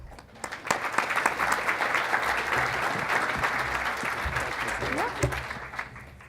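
A panel audience at a clinical trials event applauds the speakers with dense, sustained clapping across the whole stretch, fairly close and even, with faint voices mixed in beneath.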